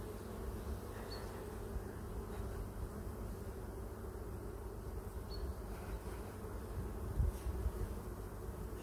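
Honeybees work at a hive, a dense, even buzzing drone that fills the clip at close range, steady throughout with a slight swell near the end and no voices.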